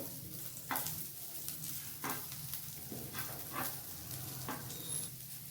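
Bitter gourd (hagalkai) frying in a pan, a steady soft sizzle broken by several scraping stirs of a spatula, with no talking.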